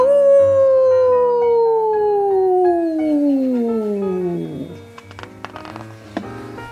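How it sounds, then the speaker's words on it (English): A dog howls at the moon in a long, loud, falling wail that slides downward for several seconds, then breaks into a few fainter yips and rustles at the end. "He's howling at the moon."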